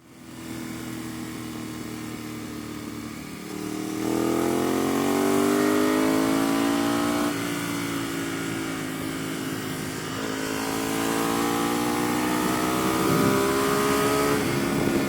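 A 2012 Ducati 848 EVO Corse SE motorcycle rides along a road, its engine droning loud and close, pitch climbing steadily through several gears with brief drops at each upshift.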